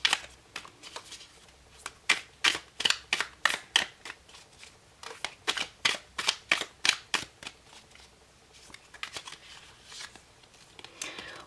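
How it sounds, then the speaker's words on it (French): Tarot cards being shuffled by hand, a close series of crisp riffling bursts in a quick regular rhythm, pausing briefly before a looser run of softer shuffles. "Alors on va tirer une carte du tarot pour avoir un dernier conseil pour ce mois-ci."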